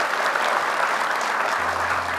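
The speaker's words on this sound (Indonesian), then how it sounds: "boleh tepuk tangan untuk Ahmad." A studio audience on an Indonesian Quran-memorization TV show breaks into steady, dense applause that holds at an even level throughout, with a brief low hum near the end.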